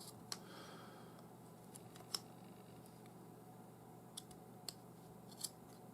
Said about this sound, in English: So I'm just going to cut off these two stray ends with my scissors.